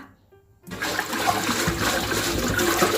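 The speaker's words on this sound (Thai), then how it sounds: "เพื่อนๆก็เปิดน้ำใส่ อ่างที่เราจะใช้ล้างปลาได้เลยนะคะ" Tap water gushes into a basin being filled for washing small fish, starting abruptly after a brief quiet moment and then running steadily and loudly to the end.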